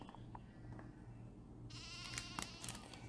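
Sheep bleat in the Nancy Drew game The Haunting of Castle Malloy, a short wavering call rising midway over a quiet hum, faint and close.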